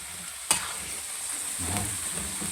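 Bopis being sautéed in a pan gives a steady close sizzle, with one sharp utensil clank early on and stirring scrapes later. No one speaks.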